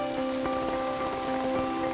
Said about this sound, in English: Another dose of invigorating Welsh rain.